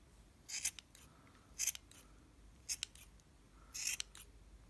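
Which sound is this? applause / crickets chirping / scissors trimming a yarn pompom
scissors trimming a yarn pompom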